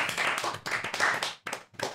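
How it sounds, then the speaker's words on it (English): A small group on a casual show claps in short bursts after an adult man goes down a small slide, the claps close and uneven with brief gaps between them. "Hey, round of applause."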